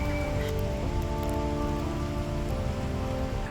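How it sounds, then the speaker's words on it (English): Steady rain falls just after stepping off a ferry, a constant broadband hiss with scattered drop patter and a faint hum running underneath, with no talking. "A little bit rainy."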